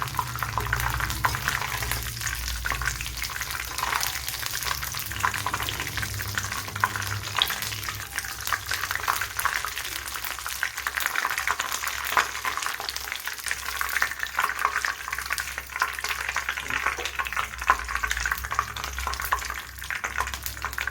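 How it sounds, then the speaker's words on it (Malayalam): Curry leaves, dried chillies and chillies fry in hot oil with a steady, loud crackling sizzle and occasional stirring clinks, lasting the whole stretch without any voice. "കുറച്ച് കറി ലീവ്സും വറ്റലും മുളകും കൂടെ ഒന്ന് ഫ്രൈ ചെയ്ത് ഇട്ട് കൊടുക്കാം"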